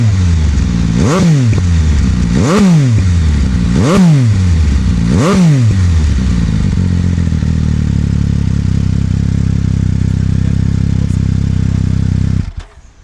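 A Ducati Multistrada V4S or MV Agusta Enduro Veloce motorcycle engine, recorded at the exhaust, revs up hard four times in a row, each burst climbing and falling, then settles into a steady loud idle before cutting off.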